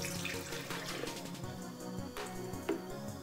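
Whole milk pours in a steady, continuous liquid stream into a measuring cup, near and clear, over low background sounds in a home kitchen while making ice cream.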